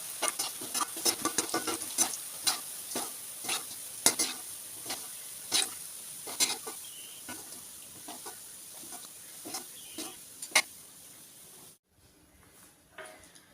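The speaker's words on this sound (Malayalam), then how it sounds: "അപ്പോൾ സോയ ചങ്ക്സ് മുഴുവൻ വറുത്ത് കോരി" Soya chunks frying in hot oil give a steady close sizzle, broken by repeated sharp clicks and scrapes of a stirring spoon, then fall almost silent near the end.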